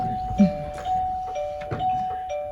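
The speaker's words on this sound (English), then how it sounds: "I'm hearing bells." Bells chime repeatedly at a comedy improv show, with a steady ringing tone running throughout and sharper strikes coming through at intervals, moderately loud under scattered voices and stage noise.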